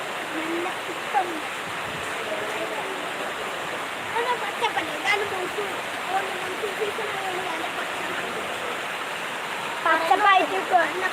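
A rainwater stream rushes during heavy monsoon rain in Kakkanad, a continuous loud roar of water with brief faint voice-like sounds near the end.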